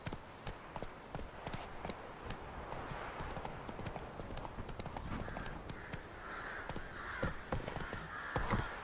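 Horse hooves clip-clop steadily through the whole stretch in the video game The Witcher 3, mid-distance under ambient game sound with crows cawing now and then.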